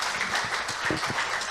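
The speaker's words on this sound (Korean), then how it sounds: "박수하겠습니다." An audience applauds at a gathering, giving a brief, moderately loud patter of clapping with some low voices mixed in.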